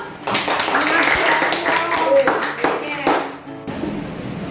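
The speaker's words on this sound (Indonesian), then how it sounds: "Tepuk tangan dulu" A classroom of students applauds together for the fastest classmate in a game, a dense sustained clapping burst lasting several seconds with voices mixed in.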